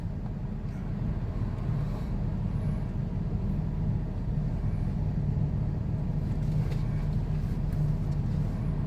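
A car on a test drive gives a steady low engine and road rumble from inside the cabin, continuous and fairly loud with no talk.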